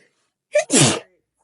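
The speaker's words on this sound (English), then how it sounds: "Why would I sneeze right now?" A single close, sharp sneeze with a quick intake of breath just before it, then silence.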